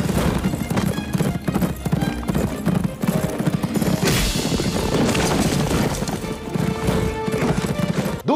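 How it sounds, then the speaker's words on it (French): Horses gallop with steady clip-clop hoofbeats and loud whinnies in an epic film chase, part of a Three Musketeers adaptation, set against a full orchestral score with occasional crashes. "les combats prenants et les poursuites à cheval épiques"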